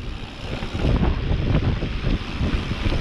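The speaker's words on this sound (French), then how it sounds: "T'as le vent de face depuis tout à l'heure." Strong headwind buffets the microphone during a cross-country mountain bike ride on the final section of a trail, a loud continuous rumbling roar with gusty swells.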